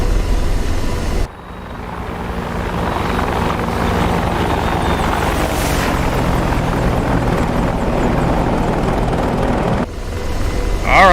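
AH-64D Apache helicopter in DCS World, a steady loud rotor and turbine drone with continuous rhythmic thumping, briefly dipping twice, while someone talks over it.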